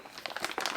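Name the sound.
plastic bag crinkling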